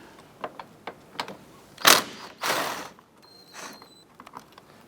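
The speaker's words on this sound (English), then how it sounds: "I'm going to go ahead and remove this bolt right here." A hand ratchet works a bolt loose on the front strut assembly of a 2004-2008 Acura TL, with scattered close clicks, two louder rasping pulls in the middle, and a few light metallic taps after.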